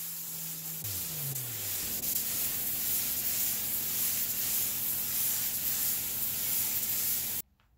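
Steady hiss of a spray gun applying single-stage automotive paint to a laminate cabinet, continuous and close, with a low mechanical hum and a few brief pitch-gliding tones near the start, then cutting off abruptly at the end.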